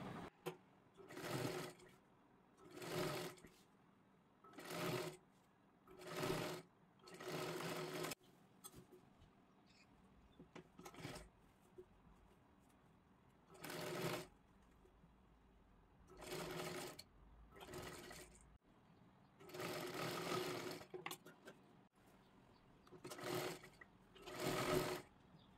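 A sewing machine double-stitching the sleeve seam of a kurti runs in short, even bursts of rapid whirring stitches, separated by quiet pauses, close and clear with no talking.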